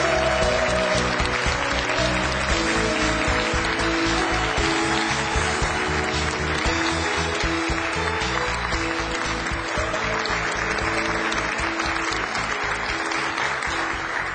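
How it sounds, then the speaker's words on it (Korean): An audience in a lecture hall breaks into loud, sustained applause to welcome a company vice chairman to the stage. The dense, steady clapping fills the room for about fourteen seconds without pause. "김지우 부회장님을 뜨거운 박수로 환영해 주십시오"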